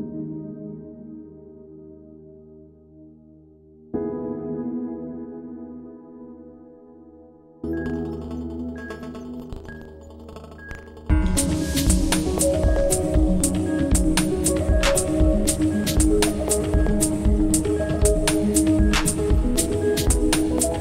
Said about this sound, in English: Let me drag in a song that I created last week.